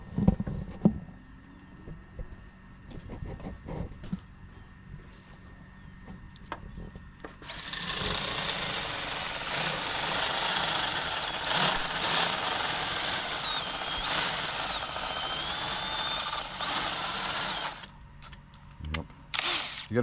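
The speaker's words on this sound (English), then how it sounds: "You got to be careful when drilling through metal" A power drill bores through metal on a Jeep Gladiator during a light bar installation, a sustained high whining grind lasting about ten seconds, loud and close, with brief clatter and handling noises before and after.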